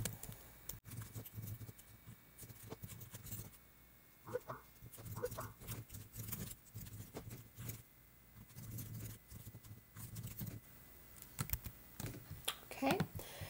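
Quick bursts of clicking keystrokes on a computer keyboard, close and fairly faint, coming in uneven flurries with short pauses between them.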